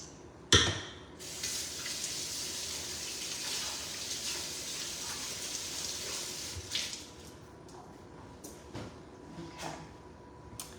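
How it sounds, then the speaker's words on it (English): Tap water runs steadily into a sink during handwashing in a home kitchen, a continuous close splashing stream broken by a few clinks and a brief louder gush near the end. "Now I'm gonna wash my hands real fast."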